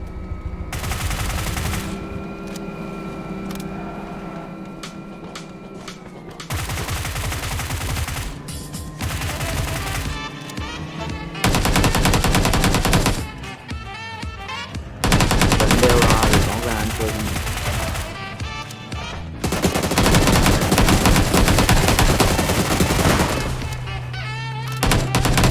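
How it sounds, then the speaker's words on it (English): Gunfire in the video game Conqueror, with bursts of machine-gun and rifle fire alternating with quieter stretches of game sound, loud and fairly close throughout. "we hear some firing"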